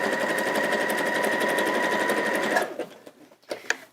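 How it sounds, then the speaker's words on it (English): A sewing machine runs steadily, zigzag stitching along the length of a fabric panel, then stops with a few soft clicks and handling noises near the end, with no voice over it. "just zigzag stitching along the full length of this panel"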